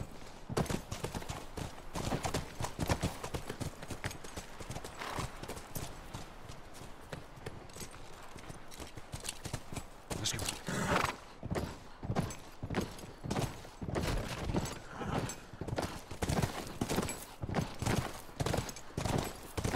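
Video game horse hooves clip-clop in a fast, steady galloping rhythm, fairly faint and continuous throughout, with occasional sharp cracks mixed in.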